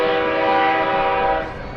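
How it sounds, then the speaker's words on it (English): A train's horn sounds at the head of a holiday parade in Royal Oak, one loud sustained harmonic blast that holds steady and then starts to fade near the end, close by and alone. "And they're led by the train."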